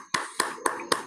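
Four sharp hand claps in an even, slow rhythm, close and fairly loud, with brief silences between them.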